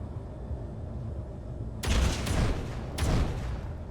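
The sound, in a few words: gunshots in a video game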